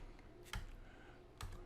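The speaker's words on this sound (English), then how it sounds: "So we'll type in Walter Gordon" A computer keyboard gives two faint, isolated keystroke clicks about a second apart in a quiet room.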